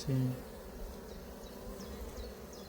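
Honey bees buzzing over a brood frame of a wild swarm colony in an apiary, a steady faint hum throughout with a brief louder low drone near the start and a few thin high whines.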